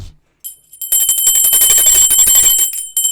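A bright notification bell sound effect rings out as a rapid series of clear metallic dings, loud and close, after a short quiet gap.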